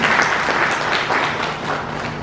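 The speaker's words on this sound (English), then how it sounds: "Ladies and gentlemen, let's make a round of applause" An audience gives a round of applause at the opening of an SHEQ Week inauguration ceremony, a loud, full and steady clapping from many people that fills the whole stretch without speech.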